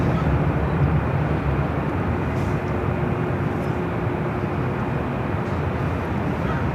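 A heavy jet airliner rolls down runway 24 left at LAX, a steady, loud broadband roar with a low rumble that holds evenly throughout, with no speech over it.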